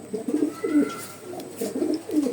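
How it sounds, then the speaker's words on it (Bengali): A female pigeon coos in soft, low, rolling phrases, three or four repeated bursts heard up close with faint background noise and no talking. "রেজাল্ট করা কবুতর তারই, এটা মামুন ওস্তাদেরই দেয়া এই মাদিটা।"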